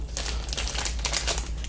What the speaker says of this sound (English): I don't want to rip it because I want to reuse the bubble wrap